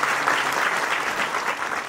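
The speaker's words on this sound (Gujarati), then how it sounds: "જોરદાર તાળીઓથી એકવાર બતાવો." Loud, continuous audience applause fills the moment at a cow shelter (gaushala) opening ceremony in Rampar, a dense wash of many hands clapping close by without a break.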